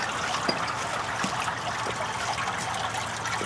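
Steady splashing and trickling of water falling in a spruce-based patio fountain, close and continuous, with a broad hiss and no voices.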